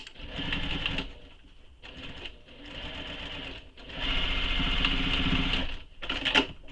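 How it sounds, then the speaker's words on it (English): A sewing machine stitches across a bag flap in several close, steady runs broken by short pauses, with a final quick burst at the end. "I'm going to come back and sew just right here."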